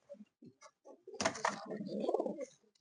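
A pigeon standing at the back coos, a soft, close, throaty rolling call rising after a few short faint sounds, heard alone and fairly quiet.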